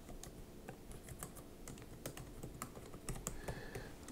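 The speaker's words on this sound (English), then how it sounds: "Pick a wireless network and type in the password." Quiet, quick keystrokes tap on an Apple M1 MacBook Air keyboard as a password is entered, an uneven run of light clicks up close with no one speaking.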